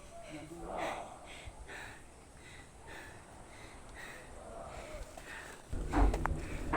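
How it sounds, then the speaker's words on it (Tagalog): Heavy breathing and gasping from a person worn out after climbing 100 steps, with puffs and sniffs repeating under faint background talk, then a louder burst of breath and movement near the end. "Hingal na ang lola nyo guys."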